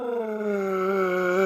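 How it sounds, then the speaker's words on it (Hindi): Rocky the dog gives a drawn-out, tonal howling bark, one sustained wavering call held steadily at close range in a hill village setting, with no talk over it. "कितना खतरनाक भौंक रहा है।"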